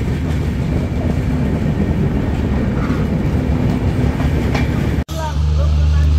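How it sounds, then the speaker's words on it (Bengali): Madhumati Express passenger train pulling into Faridpur railway station, a steady heavy rumble of rolling cars with brief squeals, cut sharply partway through and then resuming as a lower, steadier drone of the halted train. "এই মুহূর্তে ট্রেনটি প্রবেশ করছে"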